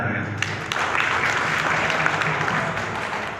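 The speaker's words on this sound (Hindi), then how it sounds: "सो मैं चाहूँगा करुणा बंदे जी के लिए जोरदार तालियां।" Audience applause at a free health awareness talk on Ayurveda and meditation held at a Buddhist vihara, dense sustained clapping from a crowd in a hall, filling the whole stretch with a steady roar.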